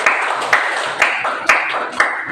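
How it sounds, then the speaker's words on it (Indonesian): A classroom group gives applause in five evenly spaced bursts of clapping, each with a sharp attack, close and fairly loud, with no voices over it. "kita berikan aplaus lagi"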